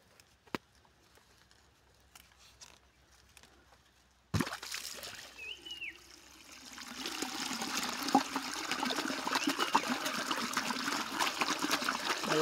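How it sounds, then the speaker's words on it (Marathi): Water drawn through a siphon irrigation pipe without a motor: after a quiet start, a sudden gush settles into a steady, close trickling and gurgling flow that continues to the end. "बिना मोटर बिना लाईट सायपन पद्धतीने पाणी पाजणे"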